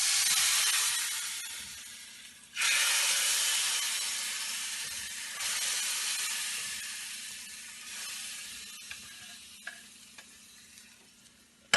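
Tempering is poured into a pot of curry and sizzles in a loud burst of hissing steam that gradually fades over several seconds, with a few soft clinks near the end.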